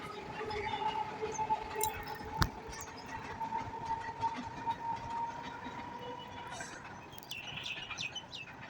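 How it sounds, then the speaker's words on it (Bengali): A train passes steadily at a moderate distance, its low rumble and a sustained tonal hum carrying through the whole stretch while birds and a rooster call faintly around it. "আর দেখো ট্রেন যাচ্ছে।"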